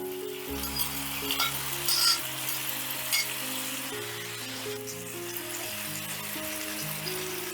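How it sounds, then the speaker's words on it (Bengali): Seasoned tomatoes hit warm oil in a pan for a tomato bhujia, a close continuous sizzle with bursts of spatter and stirring, no talking. "এবারে তেলটা হালকা গরম হয়ে গেলেই দিয়ে দিচ্ছি মেখে রাখা টমেটোগুলো"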